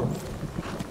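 Horse hooves clopping on the ground in the Skyrim video game, a quick run of soft, steady footfalls heard close and moderately loud with no talk over them.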